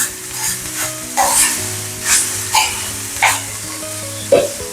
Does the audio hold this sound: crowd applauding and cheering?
no